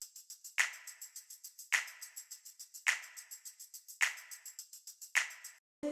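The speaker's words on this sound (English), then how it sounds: "very first we have this hi-hat and snare loop that sounds like this" A programmed hi-hat and snare loop from a drum group: quick, evenly spaced hi-hat ticks with a sharp snare crack roughly every second, repeating cleanly and alone until it cuts off near the end.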